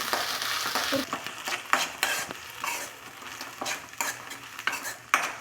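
Avarekalu beans with a little kasuri methi roast in a pan, giving a steady dry sizzle broken by repeated scraping stirs and clinks of a metal spoon against the pan.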